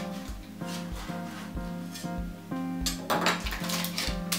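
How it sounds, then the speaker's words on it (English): A spatula scrapes and taps around the rim of a metal cake pan to loosen a baked tiramisu layer cake, giving a steady rhythm of light metallic clinks and knocks, close and clear. "So just run your spatula around."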